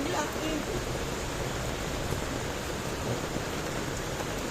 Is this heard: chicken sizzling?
no